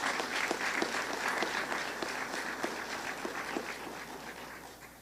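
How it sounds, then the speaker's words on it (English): Audience applause at a college commencement, a dense steady patter of many hands clapping that slowly tapers off toward the end. "let us applaud the 32 young men in this class"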